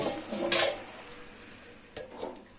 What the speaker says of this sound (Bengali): ঢাকাটা খুলে দিচ্ছি